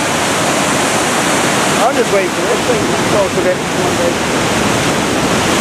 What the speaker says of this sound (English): That's the main waterfall.